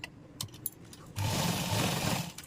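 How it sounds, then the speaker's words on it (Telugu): A sewing machine stitches piping onto the neckline of a boat-neck blouse, starting after a few soft handling bumps and running steadily for about a second, close and moderately loud, with no talking. "నేను ఇంకా ఇలా హోల్డ్ చేసేసి ఒక కుట్టు అయితే వేసేస్తున్నాను మిషన్ కుట్టు"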